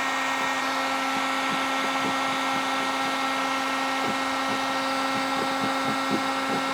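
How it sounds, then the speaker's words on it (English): Heat gun running on its low setting while lifting stick-on pinstriping from car paint: a continuous steady motor whir and airflow hiss with a constant hum and faint intermittent ticks, close and even, with no talking. "Once again, I've got the heat gun on low."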